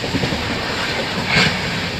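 The Falaknuma Express rumbles steadily and loudly close by on the Rajahmundry to Visakhapatnam line as it comes into a station, a continuous rolling noise with no talk.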